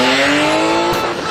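A cheaply home-tuned race car tears past at speed in a Kiskunhalas street-legal race, its loud, harmonic-rich engine whine sliding across a brief tire squeal, close and dominant.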